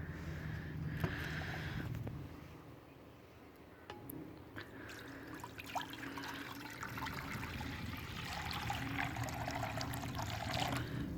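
Boiled herbal water for pigeons pouring out in a close, steady trickling stream with scattered drips and splashes, quiet and without talk.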